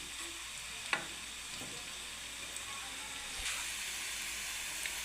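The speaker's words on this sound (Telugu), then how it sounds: "ఇలా వేగాలి, బ్రౌన్ కలర్ వచ్చేలా వేయించుకోవాలి" Fish pakodi coated in jonna (sorghum) flour deep-frying in hot oil, a steady soft sizzle with occasional faint pops and spoon stirs, close and fairly quiet, no one talking.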